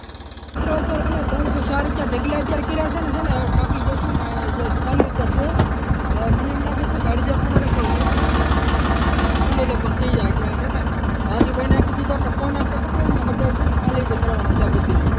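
A tractor engine chugs slowly as it creeps forward through a field, a steady, close, low rumbling drone with a knocking texture that holds throughout, with voices talking over it.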